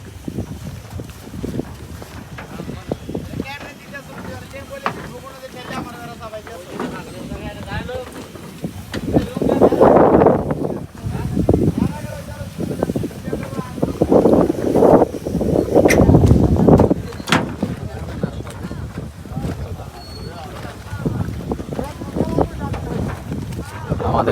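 Gusty wind sweeps over the river at Kalipur boat ghat, where trawlers wait near Chandpur, rising into loud rumbling bursts on the microphone around mid-clip, with voices and ambient noise underneath.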